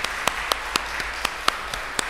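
A church congregation claps in a steady, even rhythm, with sharp regular claps about four per second and no voices over them.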